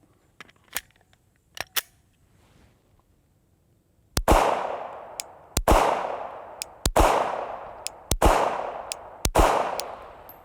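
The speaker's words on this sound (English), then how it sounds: "So, it is a Glock. Let's find out what it's like to shoot." A Glock P80 pistol, a full-size handgun, fires five sharp, loud shots at a steady pace, each followed by a ringing echo outdoors. A few faint clicks of handling come before the first shot.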